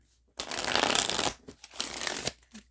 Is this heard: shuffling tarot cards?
yes